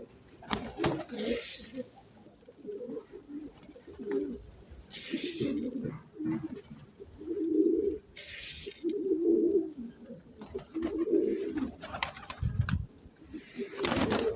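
A young pigeon coos repeatedly in soft, low bursts close by, over a constant hiss in the background.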